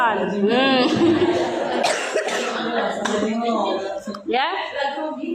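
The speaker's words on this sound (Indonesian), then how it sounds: "Batuk kali ya." A person nearby coughs several times in short loud bursts, with speech and some throat noise mixed in around the coughs.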